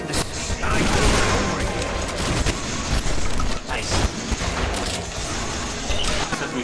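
Video game combat with a grenade blast and a steady rattle of gunfire, loud and dense throughout, with a player's voice talking over the action.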